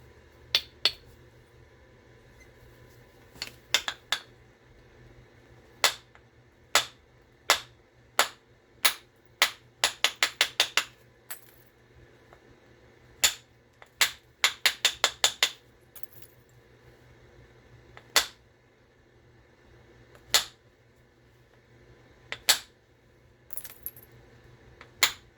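Sharp, glassy clicks and taps from pressure-flaking the edge of a mahogany obsidian knife blade, coming singly and in quick bursts of several, close and clear over a low steady hum, with no talking.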